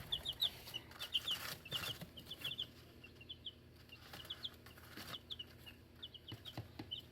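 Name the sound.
2-day-old and 9-day-old chicks clucking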